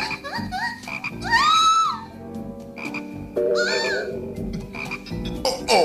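Cartoon toads croak in a lively series of rising and falling calls, several voices overlapping in quick bursts, loud and close with no speech.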